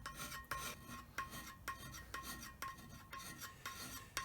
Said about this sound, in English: I self-inflicted doing an inconsistent scrape on a roughing pass